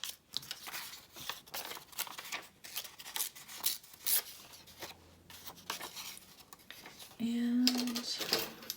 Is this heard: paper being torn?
yes